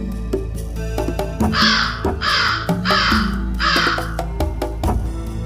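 A cartoon crow belts out a harsh four-caw song, loud and close, each caw a rasping burst, over a busy background music track.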